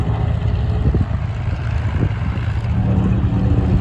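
At an air show, the piston engine of a WW2 Corsair Wildcat fighter gives a loud, steady low rumbling drone with a faint pulsing throb throughout.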